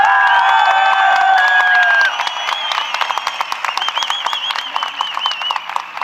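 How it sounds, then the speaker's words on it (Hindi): A large crowd at a public speech event in Dehradun applauds and cheers loudly, clapping dense and sustained at first, then thinning into scattered claps with shouts and whistles. "कितनी ताली बजनी चाहिए।"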